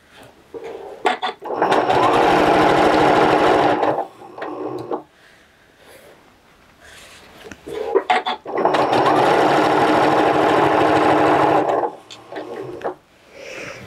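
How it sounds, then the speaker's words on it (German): A sewing machine stitches a heart-patterned ribbon down its middle onto a fabric hanger cover. Two long, steady mechanical runs of rapid stitching are separated by a quiet pause, with short stop-start bursts at the edges of each run. "nähe ich quasi in der Mitte durch und nähe somit jetzt nochmal das Herzband"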